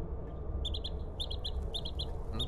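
Video-game birdsong chirps in short, bright bursts of clustered tweets, repeating in a patterned rhythm like coded signals over a low steady background hum, with no talking.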